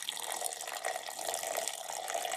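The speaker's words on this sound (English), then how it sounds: "And now we're gonna add a little water. A little water to the pea soup." Water is poured into a pot of pea soup, a soft, steady, hissy trickle with light foaming, close and quiet, with no talking.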